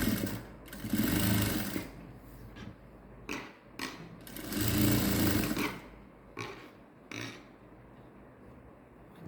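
A sewing machine stitches a blouse with synthetic lining in satin cloth, running in several short whirring bursts separated by brief pauses.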